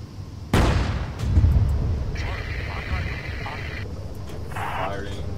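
A tank cannon fires at an enemy T-34 in the WW2 video game Arma 3, one loud booming shot followed by a rumbling tail and engine noise, with someone talking over it.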